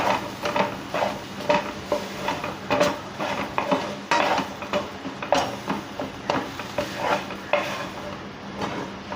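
An egg and rice mixture is stir-fried in a pan: a spatula scrapes and clatters against the metal in quick, rhythmic strokes over a low sizzle, close and continuous throughout.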